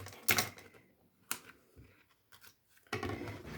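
A utility knife slices paper flush along an edge in a few sharp bursts, with quiet gaps between strokes and a final longer scrape, close and clear with no talk.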